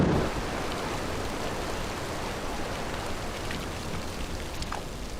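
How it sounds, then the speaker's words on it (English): Torrential rain pours over the Okinawa battlefield as a dense, steady hiss that never lets up. Faint rumbles sit underneath, and no voices are heard. "torrential rain now turned the battlefield into a quagmire"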